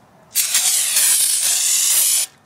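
A steady, loud spray of aerosol carb cleaner hisses continuously for about two seconds, close up, onto a dirty Subaru WRX valve cover, then cuts off abruptly.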